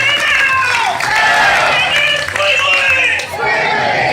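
Walmart employees do the company cheer together, a loud crowd of voices shouting and chanting in unison with cheering and some clapping.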